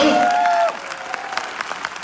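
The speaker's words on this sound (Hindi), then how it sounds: "अगर ताली बजानी है तो इनके लिए बजाइए, मेरे लिए मत बजाइए।" Scattered clapping from an audience in a hall at a wellness celebration event, tailing off into light applause after a speaking voice at the start.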